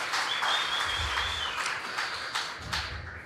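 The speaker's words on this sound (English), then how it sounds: "One more round of applause for our 2023 outgoing Fairest of the Fair." An outdoor crowd at a county fair opening ceremony gives a round of applause for the outgoing Fairest of the Fair, a soft, distant patter of clapping that stays steady for a few seconds.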